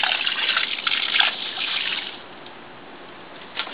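Water pours into a clay pot being prepared for planting a Meyer lemon tree, a close, steady trickle and splash that tapers off after about two seconds, with a brief splash near the end.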